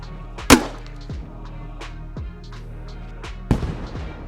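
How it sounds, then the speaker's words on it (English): Two grenade launcher shots in the game Squad, a sharp loud blast early and a second burst near the end. Fainter thuds and clicks fall in between, with no talk. "I'm going to aim low and fire my first shot."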